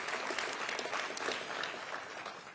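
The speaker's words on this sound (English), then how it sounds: "How about an applause for them?" Audience applause for Southwest Airlines at an announcement event at Nashville's BNA airport: a dense, steady burst of many hands clapping together, loud and sustained throughout before easing slightly at the end.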